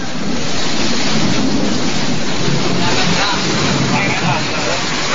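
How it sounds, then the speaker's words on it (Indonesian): A rainstorm with strong wind and hail hits the Cibaduyut area of Bandung, producing a loud, constant roar of rain and gusting wind that fills the whole stretch without a break. "Selain hujan yang disertai badai, Kota Bandung sempat diguyur hujan es."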